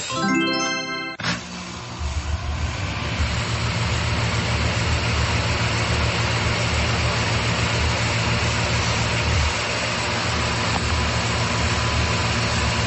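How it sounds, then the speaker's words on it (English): A steady mechanical hum with a low motor drone runs continuously after a brief metallic jingle at the start, loud and unbroken. "Is it an air conditioner?"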